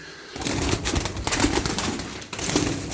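Tumbler pigeons in a coop coo and rustle close by, with soft repeated calls and wing or body movements blending into a busy, continuous murmur.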